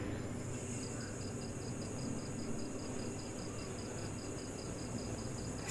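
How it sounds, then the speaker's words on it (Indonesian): Crickets chirp in a fast, evenly pulsed trill at night, faint and steady beneath a soft background hiss, with no voices. "Suara apa sih, jangkrik ya?"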